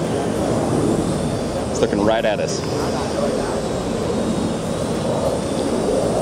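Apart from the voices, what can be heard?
Parrot AR Drone quadcopter flying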